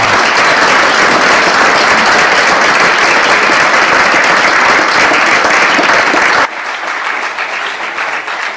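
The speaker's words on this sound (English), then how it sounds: "let us give Hannah one more big round of applause" An audience at an astronomy lecture gives a long, loud round of applause, dense and sustained, that suddenly drops to lighter, scattered clapping for the last couple of seconds.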